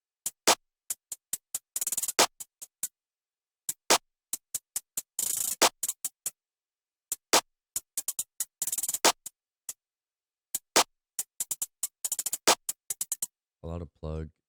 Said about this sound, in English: this is my main hi-hat pattern.